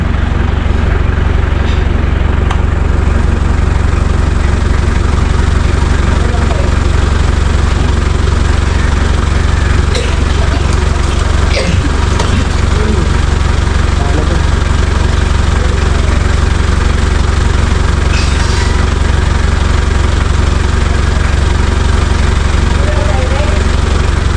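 A boat motor idles at a river in Lomboy, giving a steady low, rumbling drone that runs without break through the whole stretch while people talk over it.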